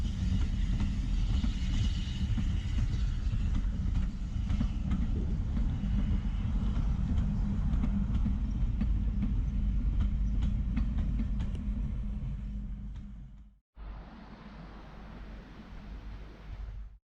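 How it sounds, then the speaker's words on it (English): A train on the Gwili heritage railway rumbles past with a steady, heavy rolling roar and faint clatter of wagons, close and loud, breaking off abruptly and resuming more softly near the end. "I've got some extra footage here of the Gwili railway, which is close to me."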